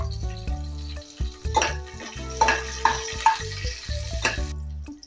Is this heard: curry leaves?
yes